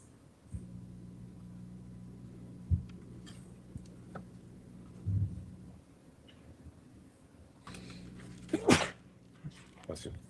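A single sharp sneeze in a quiet indoor courtroom, heard near the middle amid low background hum, with people speaking around it.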